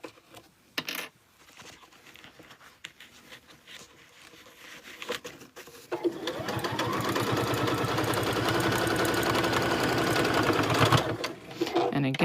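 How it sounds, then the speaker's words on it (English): A sewing machine back stitches over a bulky seam on a fabric boxy bag: quiet handling and clicks at first, then a steady close whirring run of stitching for several seconds that stops near the end. "I'm just back stitching over where it's bulky, just to really help hold that in place."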